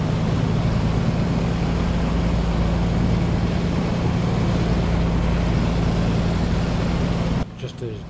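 A simulated A2A Comanche 250 light aircraft engine in a flight simulator turns over and runs with a steady, loud propeller drone for most of the stretch, then cuts lower near the end, while someone talks over it.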